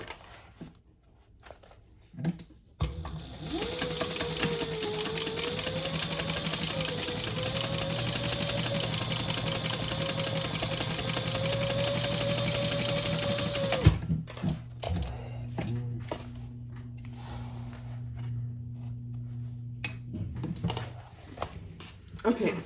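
A sewing machine stitches a seam on a crossbody bag, running in one steady whirring, ticking stretch of about ten seconds before stopping, followed by a person talking.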